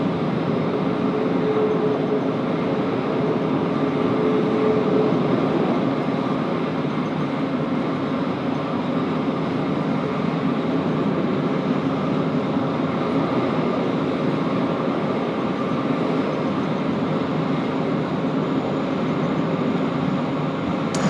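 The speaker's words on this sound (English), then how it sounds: "let's enjoy this A380 taxiing in, I think, to bay number 10" Asiana Airbus A380 taxiing in toward its gate at Sydney Airport: a steady, broad jet engine rumble and hiss at moderate distance, continuous and even throughout, with no voices.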